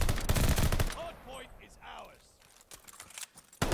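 Rapid video-game gunfire on the Bocage map, automatic bursts loud and close at the start and again at the end, with a quieter stretch of distant shots and faint tonal effects between.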